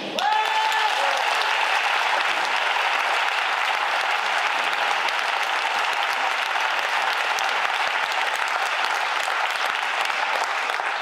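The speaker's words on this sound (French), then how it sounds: "Accompagné de Mario, je vous invite à applaudir Betty." A live audience breaks into sustained applause for a performer taking the stage, loud and full, many hands clapping in a thick continuous roar that holds steady for about eleven seconds with no speech.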